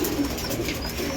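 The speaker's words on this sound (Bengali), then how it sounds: "পায়রা সব অধীর আগ্রহে চেয়ে রয়েছে খাবে বলে" Pigeons coo close by while pecking at grit, a few soft throaty coos in a row, fairly loud against a faint background and with no voices.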